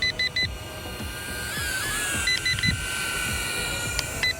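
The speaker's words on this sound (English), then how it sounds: "Start getting a beep and it probably just lands itself." A Holy Stone HS420 mini drone beeps before auto-landing outdoors in wind. Its motors give a steady whine while groups of three quick, sharp beeps repeat every couple of seconds.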